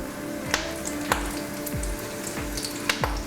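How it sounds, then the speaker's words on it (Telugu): Onion frying in hot oil with curry leaves for an egg prawn fry, a steady sizzle with occasional sharp spits and pops and faint stirring, close and fairly quiet, no talking. "ఆనియన్ ఫ్రై చేసుకోవాలండి."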